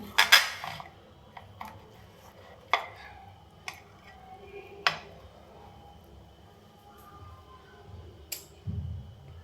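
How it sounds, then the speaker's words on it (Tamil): Rava pudding cake cut in a dish, sparse scattered clinks and scrapes of a utensil against the dish, close and fairly quiet, with gaps of silence between. "நம்ம கட் பண்ணி எடுத்து பார்க்கலாம்"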